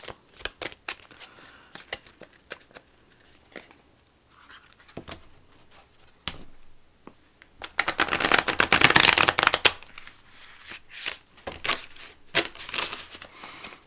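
A deck of tarot cards shuffled by hand in bursts of riffling and soft slaps, with a longer, louder run of rapid shuffling in the middle, close and clear without talk.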